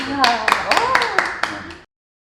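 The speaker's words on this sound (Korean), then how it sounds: "박수" A few scattered hand claps from a small audience after a Korean poetry recitation, sharp and close, mixed in with voices talking over them.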